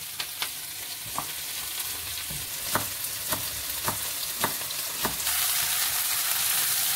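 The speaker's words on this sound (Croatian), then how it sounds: "Znači pečurke pržimo nekih 4-5 minuta." Mushrooms fry in a pan with a constant close hiss of sizzling, punctuated by a regular series of sharp clicks from stirring or tapping utensils, with no voices.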